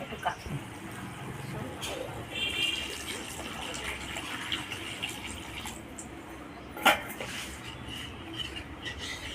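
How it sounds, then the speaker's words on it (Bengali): Water is poured into a pan of fried spices for a pabda fish jhal curry with fish head and Malabar spinach, a soft, steady splashing and gushing at close range. "মশলা কষানো হয়ে গেছে, এবার আমি পরিমাণ মতো জল দেবো।"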